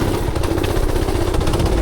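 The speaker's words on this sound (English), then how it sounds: "It sounded like the engine was actually revved up." A small go-kart engine revs hard and steady at close range, seemingly hitting its rev limiter, a loud buzzing drone with a rapid rattling pulse throughout.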